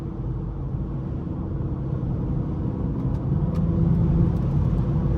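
A BMW 440i with the B58 engine cruising on a highway, heard from inside as a steady low rumble of engine and road noise that swells slightly toward the end, with no voices.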